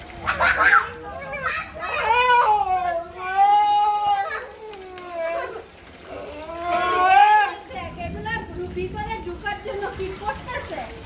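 A dog at a house door whines and begs to be let in, giving several drawn-out, rising and falling whimpers close by, one after another.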